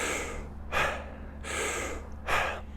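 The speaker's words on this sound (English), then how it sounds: "We forcefully inhale and we relax when we exhale." Forceful, swift deep inhales from a breathwork exercise, drawn into the belly, ribs and chest in one go: two sharp, breathy gasps close to the mic, each followed by a softer relaxed exhale, with no talking.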